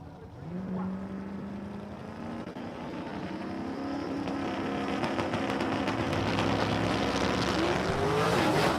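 At a dragstrip, race cars launch and roar down the track together. Engine tones climb steadily over several seconds and the noise grows louder and denser toward the end, with no voices.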